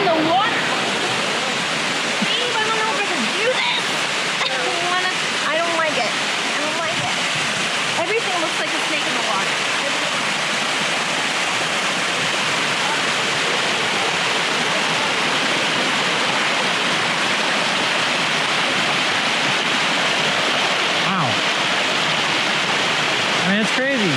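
A waterfall, Sticky Falls near Chiang Mai, roars in a constant broadband rush nearby, with voices calling out faintly and intermittently over the pounding water.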